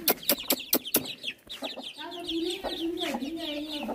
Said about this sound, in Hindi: मेरे ख्याल से चूज़े आ गए हैं गेट के आगे